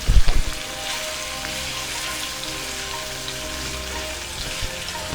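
Seasoning for saltfish sizzles steadily in a pot on the stove, a continuous close frying hiss with a brief louder clatter at the start.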